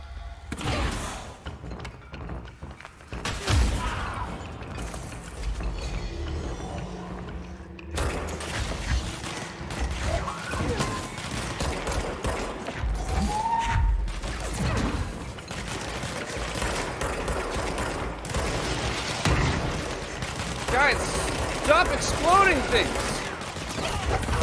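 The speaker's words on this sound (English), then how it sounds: "Stop shooting explosives at me." Gunfire and explosive blasts in the Control video game, scattered thumps and shots over a long stretch with mechanical clanks and creaks, mixed under occasional talking.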